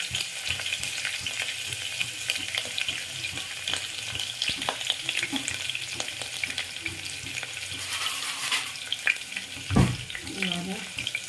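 Ginger sizzles and crackles in a hot pan for ghee rice, a constant close frying hiss with scraping stirs and clinks as it is moved around.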